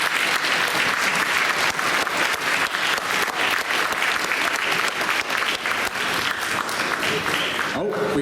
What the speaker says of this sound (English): Give them a big round of applause as they make their way up here.